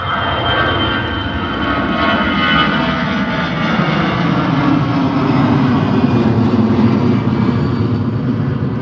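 An airliner takes off at Liverpool John Lennon Airport, its engines producing a loud, continuous broadband roar that holds steady and slowly shifts in tone as it climbs, with no voices over it.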